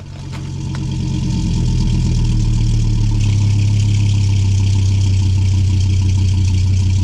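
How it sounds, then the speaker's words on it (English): A 1998 Dodge Ram 2500 pickup's V10 engine with a Gibson exhaust fires up and settles into a loud, deep, steady idle rumble heard up close, with no talking. "let's start this thing up and see what it sounds like."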